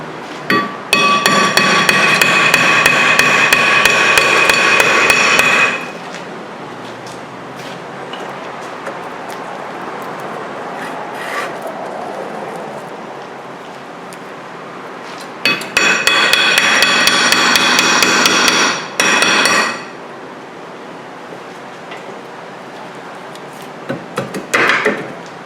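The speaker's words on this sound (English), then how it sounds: "we're just going to tap it and see if we can get it out easy enough" Rapid metallic hammer blows on a stuck, rusted rear brake rotor of a 2008 Hyundai Santa Fe, struck close and loud in two dense bursts separated by quieter workshop background, with scattered single taps afterward.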